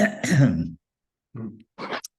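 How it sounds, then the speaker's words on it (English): A person clears their throat with a rough, gravelly rasp, followed after a pause by two shorter, quieter throat-clearing grunts. "clearing my throat"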